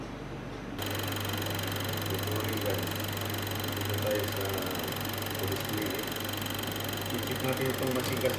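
A Vacuklav 31-B+ autoclave with a vacuum system malfunction switches on after a brief quiet start and keeps up a steady mechanical hum with a low, constant drone. Someone talks over the running machine.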